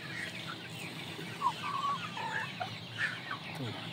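Indio Gigante chickens, a large imported breed around four months old, give scattered clucks and short calls over a steady background murmur, with a few louder notes standing out at moderate distance.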